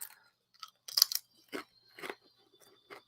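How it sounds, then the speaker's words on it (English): A tortilla is bitten and chewed close to the microphone, giving a series of sharp, separate crunches in an irregular rhythm with quiet pauses between them and no talking. "I'm going to do a crunch test on one of these tortillas"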